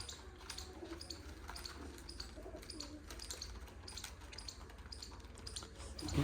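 Soft pigeon cooing sits low in a steady wash of outdoor noise, faint and continuous with no clear break.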